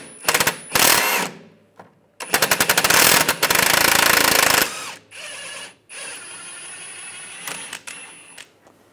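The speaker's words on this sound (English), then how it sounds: "Using a 16 millimeter wrench and a 16 millimeter socket, take this bolt and nut off." A socket tool works loose a 16 mm bolt and nut on a rear sway bar link of a 2006-2009 Mercedes-Benz E350, in several loud bursts of rapid mechanical clicking and rattling separated by short pauses.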